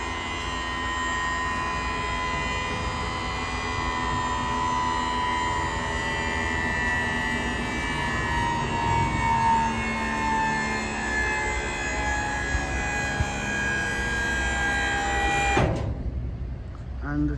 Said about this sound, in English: We jack up the hydraulic leg.